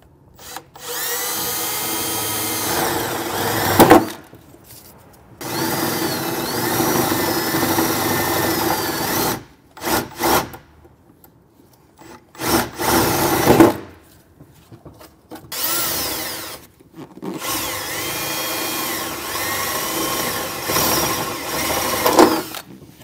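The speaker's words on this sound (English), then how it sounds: "Come back with a 3/8 size drill bit" A drill with a 3/8 bit whines in several long bursts separated by pauses, drilling holes nearby while installing a fifth wheel gooseneck wiring harness on a 2019 Ford F-150, loud and steady while running, with no talking.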